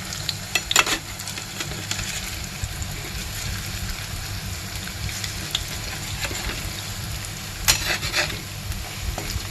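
Vadi stir-frying in hot mustard oil until golden, a continuous close sizzle with bursts of spoon scraping and clatter against the pan throughout.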